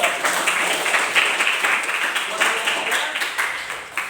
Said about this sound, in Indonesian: tepuk tangan buat kelompok satu